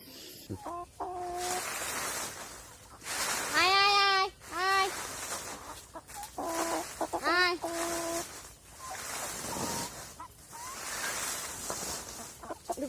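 Chickens, roosters and hens in a Sundarbans village yard, clucking repeatedly with several sharp, rising squawks and calls, close by, while people talk nearby.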